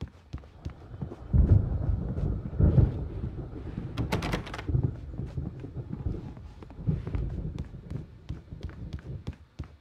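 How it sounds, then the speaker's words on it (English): Thunder rolls and rumbles repeatedly through a stormy night scene in the video game Alan Wake, with heavy low booms swelling at intervals and a sharp crackling burst midway as the storm draws near. "The storm is almost here."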